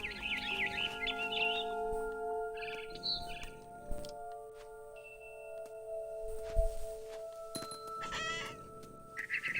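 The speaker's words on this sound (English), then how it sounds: "Then I heard chirping outside my window. It was a barn swallow going back to her nest." Barn swallow chirping outside a window in the game What Remains of Edith Finch, bright high twittering calls in short bursts at the start, middle and end over a steady tonal music-like background hum.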